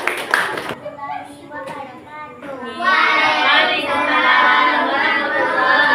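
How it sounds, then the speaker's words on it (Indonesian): Schoolchildren clap their hands in a classroom in a short, sharp burst at the start, then the clapping stops and children's voices and chatter fill the room. "Tepuk tangan."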